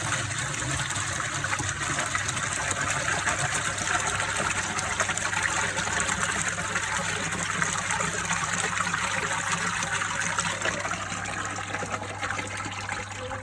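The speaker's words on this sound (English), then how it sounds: "And the water comes gushing in." Water gushes into a pond filter, churning steadily and loudly for a long stretch, a continuous rushing flow with no voices.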